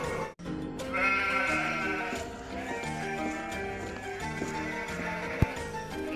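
Sheep bleat in a loud, close chorus of overlapping wavering calls, several animals crying at once with little pause, over a busy background.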